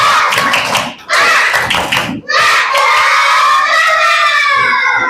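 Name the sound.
class doing the 'tepuk semangat' clap chant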